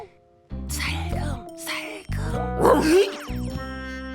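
A dog barking in a Korean children's adventure drama about a strange doll, with a few short bursts over a music bed and between people speaking nearby.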